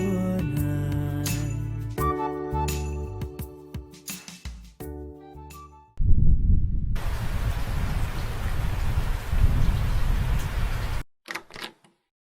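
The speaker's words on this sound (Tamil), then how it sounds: "செம்ம மழைல." Heavy rain pours in a steady broadband hiss, following a stretch of music and closing with a brief burst of sound.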